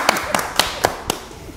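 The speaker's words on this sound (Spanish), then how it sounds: "Un aplauso para ella, por favor." A handful of sharp, evenly spaced hand claps, about five in quick succession, from a small studio audience on a Spanish-language morning TV talk show, fairly close and with no talk over them.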